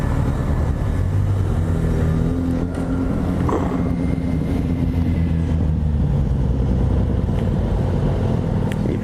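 Many motorcycles rumble and rev in a continuous low engine roar, blended with wind buffeting on the microphone and no clear speech.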